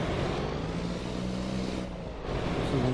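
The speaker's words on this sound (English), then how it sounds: "This truck definitely lets off some sound." Truck engine running in Farming Simulator 25, a continuous low, steady drone with a faint tonal hum and no pauses, fairly loud and alone.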